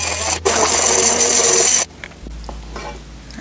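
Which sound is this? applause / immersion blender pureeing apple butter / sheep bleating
immersion blender pureeing apple butter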